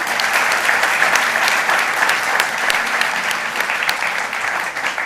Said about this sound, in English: can I have a round of applause, please, to welcome him?